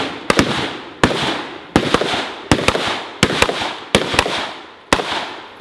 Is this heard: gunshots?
yes